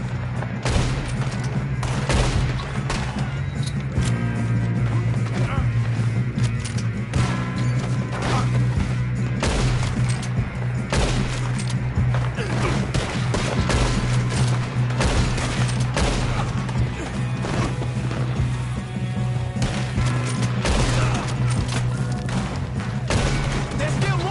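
Dense, continuous gunfire in a Red Dead Redemption 2 shootout, with rapid overlapping shots and impacts going on without a break under a steady low musical drone and occasional voices.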